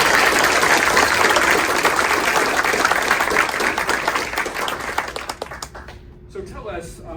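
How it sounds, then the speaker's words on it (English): An audience applauds the bachelorette introduced on a live speed-date show in Orland Park, loud sustained clapping that thins and fades out over the last two seconds. "Give her a round of applause"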